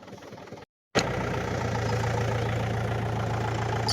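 A tractor engine idling in a farm field: a low rumble cuts out briefly to near silence, then the engine returns loud and close with a steady, throbbing idle and a constant low hum.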